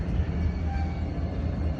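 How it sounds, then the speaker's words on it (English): A freight train passing at a crossing produces a steady low rumble that holds constant throughout, with no voices present. "there's a train"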